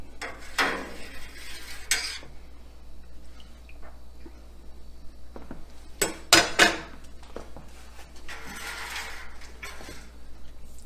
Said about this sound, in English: When you're stirring, try not to break the surface with your spoon.